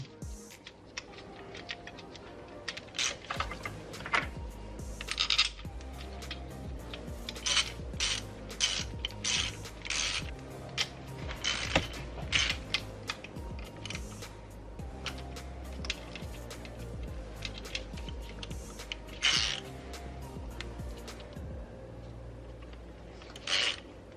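Bolts being worked by hand tools while installing DW 1000cc fuel injectors on a 2JZ engine in an E46 conversion, a long run of rapid ratcheting clicks over a low background hum.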